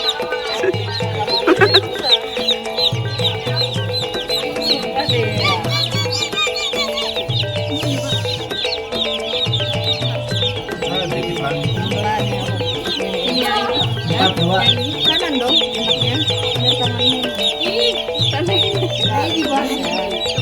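Chickens at a poultry farm cluck and squawk continuously in a dense, busy chorus, with a person speaking briefly among them.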